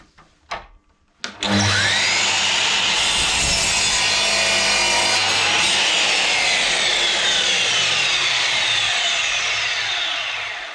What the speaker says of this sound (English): Cut a mitre on there, or whatever angle you want